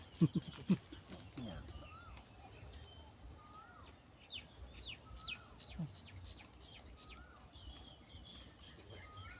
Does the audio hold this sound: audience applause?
no